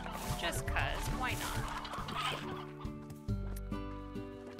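Painted hens in the video game Slime Rancher cluck in a quick series of short calls over steady game music, with a few more isolated clucks toward the end.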